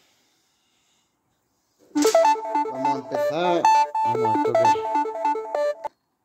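A melodic mobile phone ringtone plays loudly and clearly for about four seconds in an otherwise quiet room during a Vespino moped assembly, then stops abruptly; someone speaks briefly.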